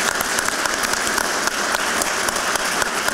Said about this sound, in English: Let's give a big round of applause to all of them.